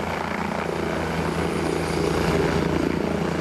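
The SUEM 118 emergency medical helicopter at a road accident scene, heard as a loud, continuous rotor and turbine roar with a steady chopping pulse, close and unbroken throughout.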